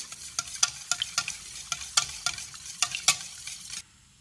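Beaten eggs and milk whisked in a bowl, a rapid series of sharp clicking strokes against the side, fairly close and steady for about four seconds before stopping abruptly.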